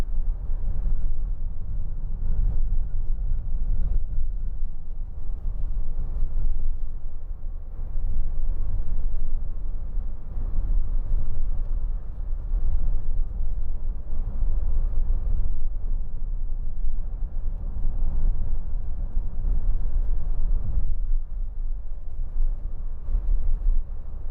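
A 2014 Renault Trafic 2.0 dCi van on a test drive, its steady low engine and road rumble droning continuously and fairly loud with no voices over it.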